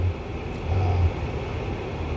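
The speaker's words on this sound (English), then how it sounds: "And I apologize about my fan," An electric fan runs indoors as a steady, low, continuous whirring hum with a gentle airy hiss. It stays even throughout, close by, with no other clear sounds.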